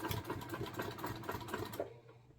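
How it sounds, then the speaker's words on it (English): A sewing machine stitches across a bag seam, running in a steady, close, rapid mechanical whir for about two seconds before stopping abruptly. "just set that foot as close as you can get, sew across, rotate it, and then go back"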